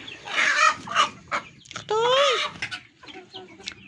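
Backyard laying hens clucking and squawking in a run of close, uneven calls, with one longer rising-falling squawk in the middle and quieter clucks trailing off.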